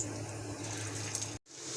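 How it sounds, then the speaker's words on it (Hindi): Beef resha kababs sizzle in hot oil in a pan, a steady hissing fry that continues evenly, briefly cut by a moment of silence near the end before resuming. "एक पैन में मैंने ऑयल ले लिया फ्राई करने के लिए और गर्म हो गया ऑयल हमारा। तो हमने ये देखें ये कबाब अपने डाल दिए हैं।"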